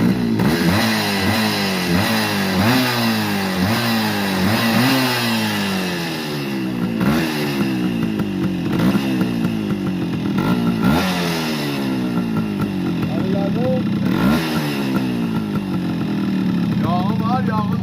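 Motorcycle engine revved hard over and over after the carburetor is filled and run without its head, a loud, close, continuous rasping roar that rises and falls in pitch throughout.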